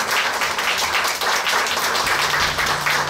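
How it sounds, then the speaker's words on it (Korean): Congregation applauding in a church after a prayer, a full burst of hand clapping from many people, continuous and fairly close. "우리 들어갈 때 여러분 큰 박수 보내주시기 바랍니다"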